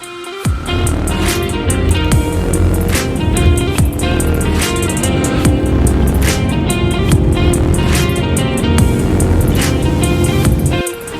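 A Ford Mustang EcoBoost 2.3 engine during an acceleration test roars loudly and continuously, with a strong sustained drone and rising engine tone throughout.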